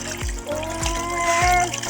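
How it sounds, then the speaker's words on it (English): Guinea corn pap is filtered through water into a bowl, with liquid trickling and dribbling close by in a few short splashy surges. "So I'm going to filter it inside the water inside the bowl."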